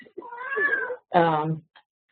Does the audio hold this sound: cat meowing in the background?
yes